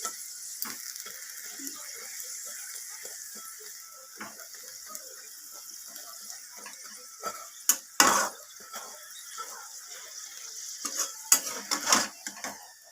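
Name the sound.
paratha frying in a pan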